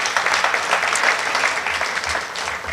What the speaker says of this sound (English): a round of applause for those young performers